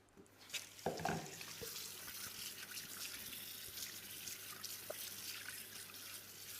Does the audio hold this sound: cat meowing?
no